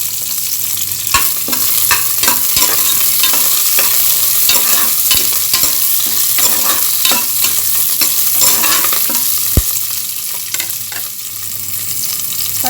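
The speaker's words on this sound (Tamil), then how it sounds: "பச்சை மிளகாய் போட்டு வதக்கிக்கலாம்." Slit green chillies sauté in a pan for mutton kurma with a loud, continuous sizzle, broken by repeated sharp clinks of a spoon stirring against the pan.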